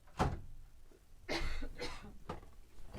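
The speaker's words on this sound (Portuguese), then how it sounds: "Tô tossindo, mas eu tô bem." A woman coughs indoors after choking, producing a harsh burst followed by two more rough coughs and a throat-clearing rasp, close and moderately loud.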